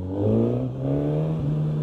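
Engine of a Suzuki GSX-S1000 motorcycle while riding, a steady droning hum that rises slightly in pitch, close and continuous with no voices.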